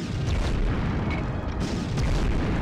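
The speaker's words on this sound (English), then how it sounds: "I should have let the grenade blow that guy up" A grenade explosion in the PS1 video game Medal of Honor, a loud, sustained, rumbling boom that fills the whole moment with dense low-end roar and no pause.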